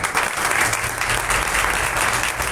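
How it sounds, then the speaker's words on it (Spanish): Church congregation clapping together in a dense, steady burst of applause, loud and continuous with a faint crowd murmur beneath. "¿Le puedes dar un aplauso al Señor?"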